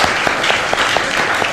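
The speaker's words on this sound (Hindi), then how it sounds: "तो मैं आपके लिए तालियां बजाना चाहूंगी" A studio audience on a Pakistani morning talk show gives a short burst of steady applause, close and even, with no talk over it.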